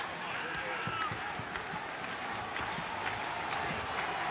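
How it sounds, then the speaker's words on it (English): A wrestling arena crowd in Albany boos steadily during a women's match, a broad, continuous roar of disapproval with scattered shouts, while voices talk over it. "Fans booing because we're in Albany"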